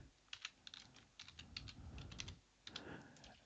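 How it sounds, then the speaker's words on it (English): Steady typing on a computer keyboard, close but quiet, with rapid clusters of key clicks and a few short pauses, no talking. "you type in the caption."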